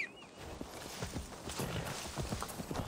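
Horse hooves clip-clop at a steady walking rhythm in Assassin's Creed Valhalla, fairly faint and close, alone without talk.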